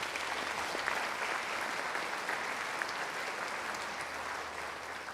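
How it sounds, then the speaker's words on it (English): An audience at a high school National Honor Society induction ceremony applauds steadily, a dense wash of clapping from a crowd heard from a distance, with no talking over it. "So one more round of applause for our executive."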